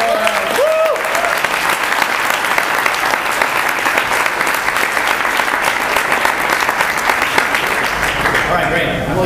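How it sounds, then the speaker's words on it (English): A room full of people gives a sustained round of applause for class mentors at a startup demo day, with dense clapping and cheers continuing for several seconds. "Let me just give you guys all a round of applause."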